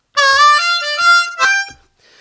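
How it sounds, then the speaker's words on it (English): A C harmonica plays a short swing blues lick close up: bright, reedy held notes that bend and step through several draws and blows, then fade quickly. "This is a C harmonica."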